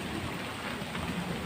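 Heavy rain pours down in a strong wind-driven storm, a dense, steady roar of water on surfaces with no gaps, loud and close throughout.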